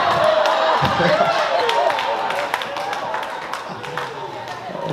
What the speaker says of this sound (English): Fuck you for clapping.